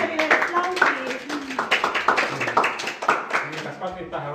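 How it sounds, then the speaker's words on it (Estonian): A small group at a museum hobby club for young children claps for the director, uneven irregular hand claps mixed with lively children's voices and an adult talking over them, close and moderately loud. "teeme direktorile aplausi"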